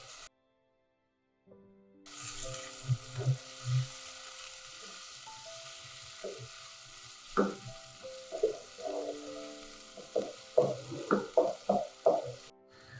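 Steady sizzling of vegetables, tomatoes and green chilies frying in a pot, with occasional clinks and scrapes of stirring over the continuous hiss.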